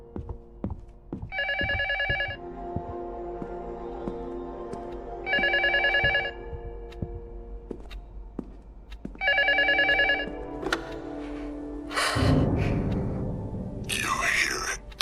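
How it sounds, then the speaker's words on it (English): A telephone rings in the horror video game LUTO, giving three separate bursts of a trilling bell with pauses between them inside a quiet, tense room. Heavier rumbling noise follows near the end. "The phone keeps ringing."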